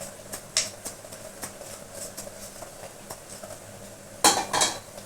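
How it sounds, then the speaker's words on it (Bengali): A spoon scrapes and clinks against a pot or bowl while garlic powder is stirred for a restaurant-style white mutton curry, making soft repeated taps and a louder clattering burst near the end. "দেখো এটাকে ভালো করে আমি নাড়াচ্ছি।"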